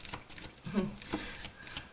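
Slippery tarot cards shuffled by hand in a quiet room, producing a few soft riffling bursts and light flicks at close range over about two seconds, with no talking.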